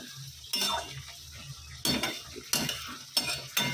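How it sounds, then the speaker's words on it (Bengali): Radish greens stir-fried in a pan with dried chilli tempering and a little turmeric: a utensil scrapes and clatters against the pan in several loud bursts over a steady low sizzle, close by, with no talking. "এখানে শাক ভাজা বসিয়ে দিয়েছি, মূলো শাক ভাজা"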